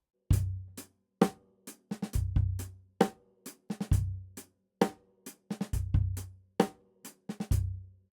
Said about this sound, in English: a slow, punchy backbeat